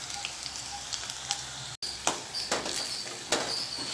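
Snake gourd pieces fry in oil with a moderate, even sizzle and scattered crackles, a short cut near the middle and a few light clicks, no voices.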